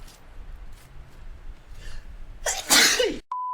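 A single sharp sneeze bursts out loud and close during play of the video game World War Z after a quiet stretch, followed by a brief steady tone.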